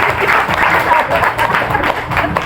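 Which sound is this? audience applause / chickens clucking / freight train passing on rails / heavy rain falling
audience applause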